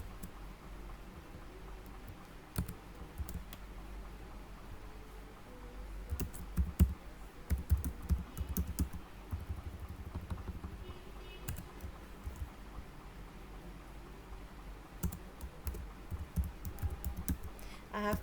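Someone types HTML code on a computer keyboard. The keys click in quick, uneven bursts with short pauses between them. The sound is close but fairly quiet, and no one talks over it.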